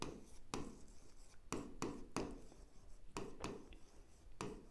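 Pen writing on paper while working an accounts problem, soft scratchy strokes in short repeated bursts with brief lifts between, quiet and close with no talk.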